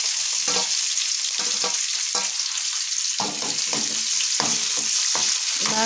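Onion pieces frying in hot oil with cashews for mint (pudina) rice, a steady loud sizzle with repeated scraping stirs of a spatula throughout.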